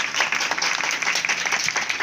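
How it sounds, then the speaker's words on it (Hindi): Applause from a church congregation, a short burst of many hands clapping at close range with a dense, steady patter. "तो पाकरू के लिए जोरदार ताली बजाएंगे"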